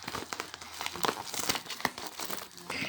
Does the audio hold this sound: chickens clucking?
no